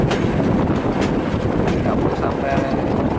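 Ambarawa heritage tourist train rolling along its rails at roughly 30 to 45 km/h, a steady broadband rumble and rattle of the carriages with wind buffeting, continuous throughout.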